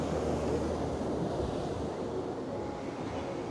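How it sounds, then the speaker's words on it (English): Rough sea surging against Blackpool Promenade at high tide during Storm Lilian, a continuous roar of surf mixed with buffeting wind on the microphone, with no one speaking. "taking in the sight of the waves smashing in on Blackpool Promenade during Storm Lilian"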